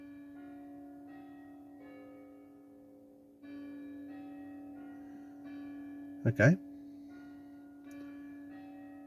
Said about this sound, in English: the church bells have just started going off